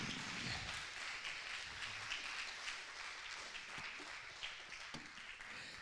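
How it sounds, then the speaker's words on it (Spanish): A church congregation applauds for the Lord after a sermon, a steady dense wash of clapping that holds at an even level throughout. "Dale un aplauso al Señor."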